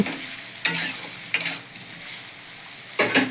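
Soybean chunks tossed with spices in a pan for a soybean and potato curry get three separate scraping stirs, with a faint sizzle in the quiet gaps between them.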